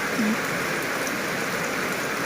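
Rain falls steadily in an even, continuous hiss, moderately loud and close, with no pauses or voices.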